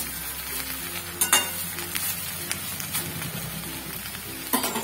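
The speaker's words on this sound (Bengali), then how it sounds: "আবার একটু নাড়াচাড়া দিয়ে নিচ্ছি।" Soft continuous sizzle of jute leaf curry in a pan on low heat, with scattered scrapes and taps of a spoon stirring, close and without talk.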